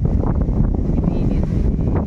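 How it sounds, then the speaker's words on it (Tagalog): Strong wind buffets the microphone in a constant low roar, with a voice faintly mixed into the rumble. "Lakas ng hangin"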